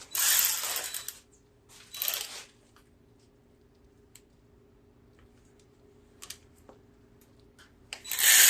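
A ratchet clicks while a bolt is tightened on a John Deere L130 riding mower during wire harness work, with a few sharp metallic bursts separated by quiet gaps and a low steady hum underneath.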